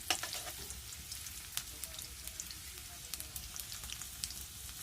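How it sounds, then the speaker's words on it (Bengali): Onions fry in a pan in a village-style kitchen, a soft, steady sizzle with scattered light pops and ticks, fairly quiet and close, with no talking. "পেঁয়াজটা একটু হালকা হালকা লাল হবে"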